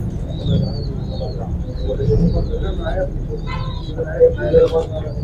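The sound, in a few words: French breeder pigeons cooing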